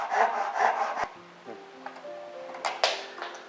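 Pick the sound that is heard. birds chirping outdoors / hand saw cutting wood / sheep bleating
hand saw cutting wood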